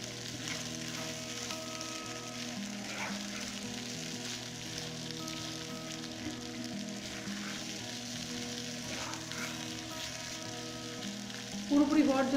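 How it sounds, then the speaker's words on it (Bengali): Tilapia fish mixed with mint leaves fries slowly over low heat, a soft, steady crackling sizzle with faint occasional stirring, quiet and unbroken until a brief louder burst at the end. "পুরোপুরি হওয়ার জন্য মাছটাকে আমি 5 থেকে 7 মিনিট চুলার উপরে লো আঁচে রেখে দিচ্ছি।"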